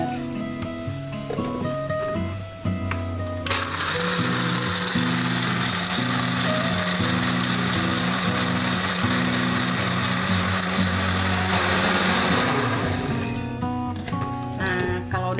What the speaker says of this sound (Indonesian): Baru deh kita blender.